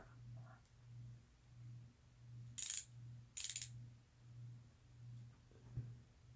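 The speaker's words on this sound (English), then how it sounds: "the new ratchets like these from Harbor Freight" A Harbor Freight ratchet gives two short, bright bursts of clicking against a faint steady low hum in a quiet room.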